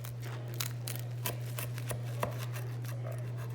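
A knife crunches through a crispy pressed panini in a few separate sharp cuts over a steady low electrical hum, close and quiet.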